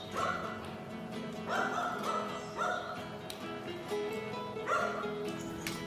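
Dogs bark in repeated short bursts with some yips, moderately near, along the Camino Francés pilgrimage route between Portomarín and Melide in Spain, over steady background noise.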